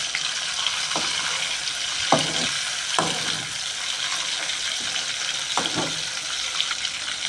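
Prawns frying in a small amount of oil in a pan over low heat, giving a steady close sizzle with a few clattering stirs or turns of the pieces.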